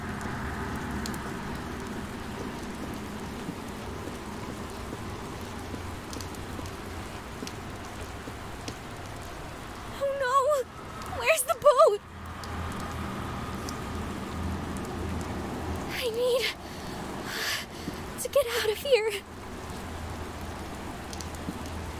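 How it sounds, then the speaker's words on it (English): Steady rain pattering on surfaces in the video game RE:TURN 2, a continuous hiss interrupted twice by short louder bursts of noise and clatter, with no talk. "Is it raining?"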